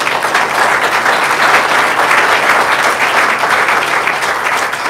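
An audience at a community forum on fighting fentanyl applauds, a dense, steady burst of many hands clapping that stays loud and even throughout, with no talking over it.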